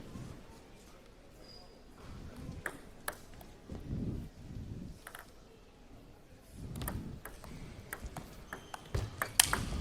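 Table tennis balls crack sharply off forehands and pock on the table during a women's singles final at the NCTTA Nationals, with irregular bright hits echoing in a large hall while a commentator talks between rallies.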